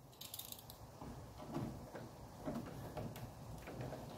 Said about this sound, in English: just remove these 8mm screws